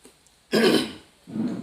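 A man clears his throat and coughs during a religious talk: one loud, harsh rasping burst followed by a shorter, softer guttural clearing, close to the microphone with no speech.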